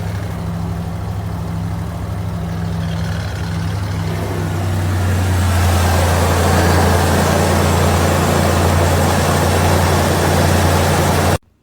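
A car engine on a dead battery, started with a NEXPOW Q10S 1500A jump starter, runs loud and close, beginning at a steady idle and then rising to a fuller, rougher roar before cutting off abruptly.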